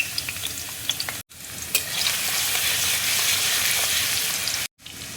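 Chopped ginger and garlic fry in mustard oil in a wok, giving a loud, dense, steady sizzle up close with light stirring clatter, broken by two brief silent gaps.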